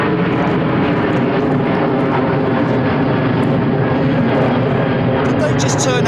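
Jet airliner powered by CF6 engines departs overhead from Heathrow runway 09R, a loud, steady, broadband roar filling the whole clip, with voices talking beneath it.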